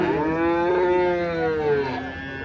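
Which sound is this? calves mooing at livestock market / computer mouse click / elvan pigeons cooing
calves mooing at livestock market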